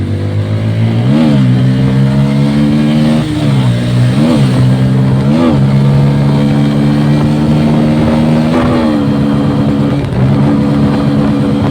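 Motorcycle engines rev loudly and steadily at the start of a race, close by, with repeated throttle blips rising and falling over a constant drone throughout.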